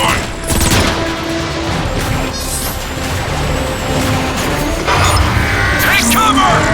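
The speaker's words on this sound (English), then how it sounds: "I'd be curious as to what an artillery strike would do to that marauder." Artillery strikes in the Transformers: Fall of Cybertron video game land in a loud, dense barrage of crashing blasts and rumbling booms, layered with metallic battle effects and brief voice chatter.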